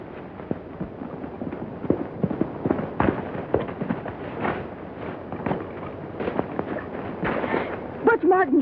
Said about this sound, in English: Butch Martin shot him